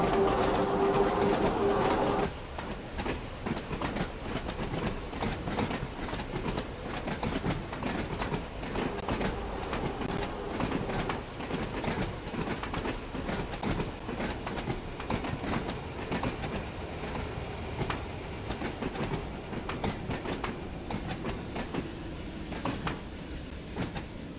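Isle of Wight line train in Train Sim World 2 rolling steadily toward Lake Station, with continuous rumble and rhythmic clickety-clack of wheels over rail joints throughout, a brief tonal hum at the very start.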